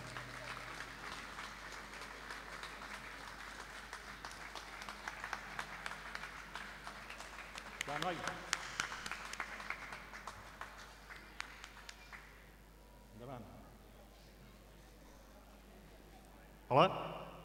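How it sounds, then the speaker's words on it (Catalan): Audience applause at an ANC Cambrils anniversary gathering with speeches, a soft continuous patter of many hands that swells briefly and then fades out, leaving a quiet room with a few isolated knocks near the end. "jo demanaria un aplaudiment pel Joan Ballosera"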